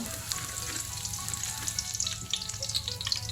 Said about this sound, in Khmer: ដាក់វាឈ្ងុយតិចទៅចាំយើងដាក់ខ្ទឹមក្រហមរបស់យើងចូល